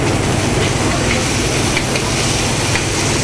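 Chopped onions and garlic sautéing in olive oil in a pan for chicken tagine: a loud, steady, close sizzling hiss that never lets up.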